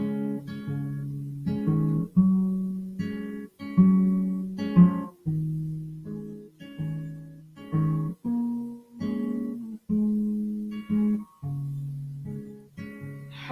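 A guitar plays a song at moderate volume, with gentle chords and picked notes that ring and fade between phrases in a relaxed, unhurried rhythm.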